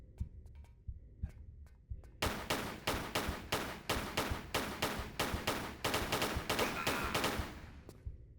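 Activated turret in Tomb Raider III firing a long rapid burst of gunshots, sharp evenly spaced cracks after a few sparse shots, close and loud with no talk.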